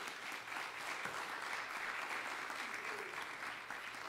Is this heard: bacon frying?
no